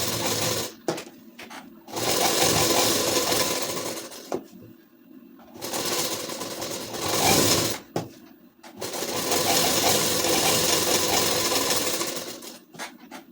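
A sewing machine stitches seams on a ladies suit, whirring loudly and close in long runs broken by brief stops, with occasional soft handling clicks between passes.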